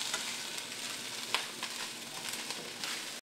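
Fried rice sizzles steadily in a hot pan while a utensil stirs and scrapes through it, with faint clicks and scrapes over a continuous crackling hiss, close and fairly quiet, no voices.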